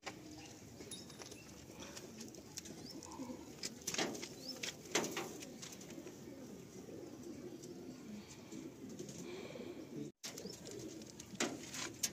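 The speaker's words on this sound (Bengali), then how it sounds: "এই 2 সেট পায়রা কালো পায়রা রয়েছে।" Black Madrasi pigeons coo repeatedly at close range, soft rolling calls over a constant background hiss, with a brief rustle or flutter now and then.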